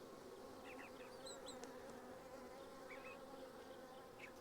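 Honey bees buzz steadily throughout an opened hive split during a queen check, a dense, even drone with scattered higher individual wingbeat whines and no talking.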